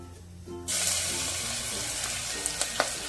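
Chilli, garlic and ginger paste drops into hot oil with cumin and mustard seeds, bursting into a sudden loud sizzle after a quiet moment, then a steady hiss with a few light stirring clicks.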